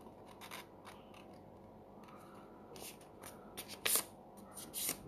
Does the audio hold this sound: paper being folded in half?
yes